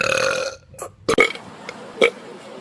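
One long, loud burp comes first, followed by a pause and then a few shorter, rougher burping sounds close to the mic.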